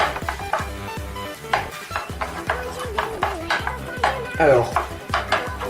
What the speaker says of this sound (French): faut bien mélanger